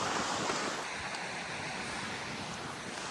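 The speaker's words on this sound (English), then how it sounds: "It's got so windy that I've made the executive decision to put the hat on." Strong wind on an open Lake District fell buffets the microphone as a continuous loud roar and rush, with no voices present.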